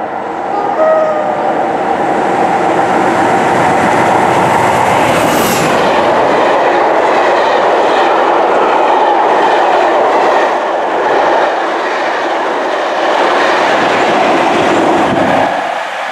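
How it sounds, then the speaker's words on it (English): Class 47 diesel locomotive hauling ten coaches passes close by on the Erewash Valley Line, a loud sustained roar and rumble of wheels on rail that fades slightly near the end. "a Class 47 diesel locomotive from Locomotive Services Limited. It's hauling 10 coaches from Crew HS to Doncaster West Yard."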